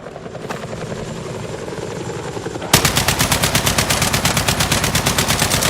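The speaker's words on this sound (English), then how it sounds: "Helicopter." A military helicopter in Battlefield 6 first whines in the background, then its rotor blades thump in a loud, fast, steady rhythm close by, with gunfire mixed in.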